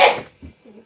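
A single short, sharp sneeze bursts out close by, followed by a couple of soft, low sniffs.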